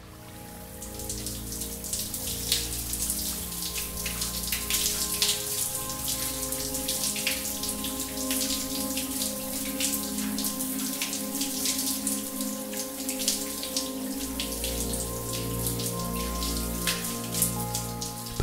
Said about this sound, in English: when you press it, the water begins to flow.